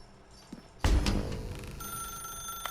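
Telephone ringing in the game The Stanley Parable, a sudden loud burst and then a sustained bright electronic ring that holds steady to the end.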